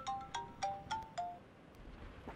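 A phone rings for an incoming call in an office meeting scene, a series of about five short, bright electronic chirps repeating quickly at close range, then fading into quiet room tone.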